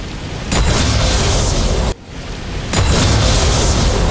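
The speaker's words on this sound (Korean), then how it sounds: "징크스의 초강력 초토화 로켓" Jinx's Super Mega Death Rocket in League of Legends: a loud, broad roaring blast that surges in, breaks off briefly, then returns as a second sustained rumbling explosion, with no talk.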